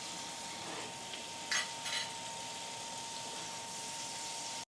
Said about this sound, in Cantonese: 打側佢，將側邊都煎一煎風，幾邊都煎風佢。